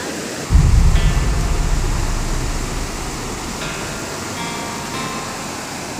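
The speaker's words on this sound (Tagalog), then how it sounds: "narating nila ang ilog na ito." A swollen, fast-flowing river that farmers must cross after days of rain rushes loudly and steadily, a thick broadband roar that starts abruptly and holds close throughout.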